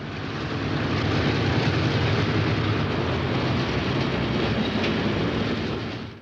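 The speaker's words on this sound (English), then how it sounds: "FP7A pushes the train on toward the Windy City" A Rock Island FP7A diesel locomotive pushing a commuter train away from a station on a crisp fall day, a steady broad rumble and roar that swells and holds throughout, with no talking.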